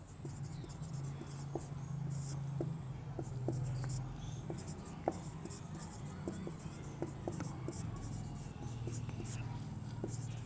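Marker or chalk scratches and taps in short strokes on a board during a Sanskrit literature class. The writing sounds are close and soft, with quiet whispery voice and room noise underneath.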